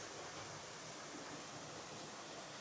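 The waterfall at Old Man's Cave in Hocking Hills in winter roars as a steady, broad rush of falling water, constant and even throughout with no voices.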